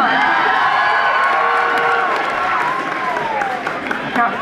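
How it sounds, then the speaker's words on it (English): A crowd of audience members at a live music show claps and cheers for volunteers, loud and close, with whoops and voices mixed into the sustained noise. "Round of applause for you."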